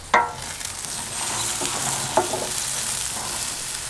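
Onions sizzling in oil in a pan on a Weber Q barbecue for chicken stroganoff, a steady loud frying hiss opened by a utensil knock, with another scrape midway as they are stirred, no talking.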